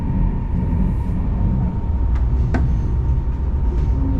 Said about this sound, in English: We are moving already.